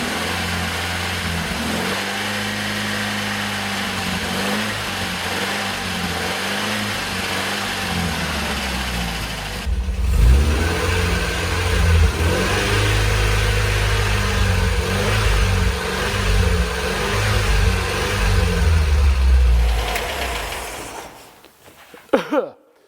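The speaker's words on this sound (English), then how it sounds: "I want you to see what I can see when we rev it up" A 1977 MGB Roadster engine with a smoking, worn motor revs repeatedly, rising and falling in loud close bursts over a steady idle, building to a harder, denser roar midway before cutting off near the end.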